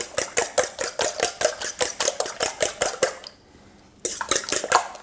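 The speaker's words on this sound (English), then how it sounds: "Now, just mix that olive oil and the egg together." Olive oil and egg are whisked together for homemade pasta dough, a quick, regular clatter of utensil strokes against a bowl that stops briefly and then resumes.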